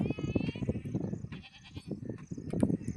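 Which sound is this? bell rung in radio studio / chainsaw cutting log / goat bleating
goat bleating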